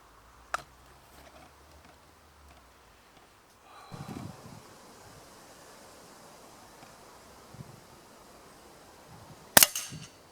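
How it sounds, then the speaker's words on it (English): Two sharp, loud shots from a Kuzey K600 PCP air rifle, single-shot loaded, one near the start and another near the end, separated by a long stretch of quiet outdoor background with faint rustling. "it's going to be single shot loaded. Yes, I'm only going to do a quick 5-shot group."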